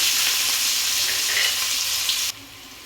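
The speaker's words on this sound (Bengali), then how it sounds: "এবার আমি পেঁয়াজগুলোকে দিয়ে দিলাম" Onions frying in oil with dried chillies, whole cumin, panch phoron and two bay leaves give a loud, steady sizzle that cuts off abruptly near the end, leaving a fainter hiss.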